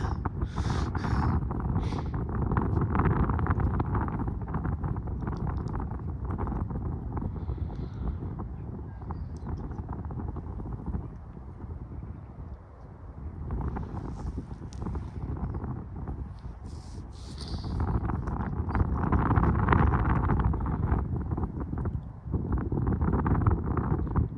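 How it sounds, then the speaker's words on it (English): Steady wind rushing past the microphone outdoors, a continuous broadband roar that swells louder toward the end, with gusts buffeting the mic and no talk over it. "Wind's picking up a bit."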